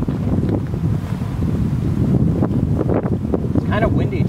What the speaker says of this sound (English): It's kind of windy today though.